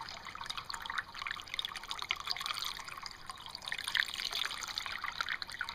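Water is poured into a Buick radiator, a soft, continuous trickle and splash with small gurgles and drips, faint and close, rising slightly near the end, with no voices.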